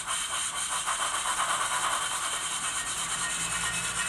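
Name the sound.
OO model steam locomotive, Soundtraxx Econami exhaust sound, wheel slipping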